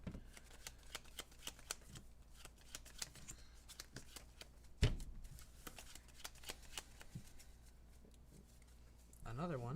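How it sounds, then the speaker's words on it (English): Trading cards shuffled by hand in repeated quick riffles and slaps, close and fairly steady, with a louder knock midway and a voice talking over the shuffling. "I feel like I'm taking forever to shuffle, but I want to make sure those bills are mixed in pretty good."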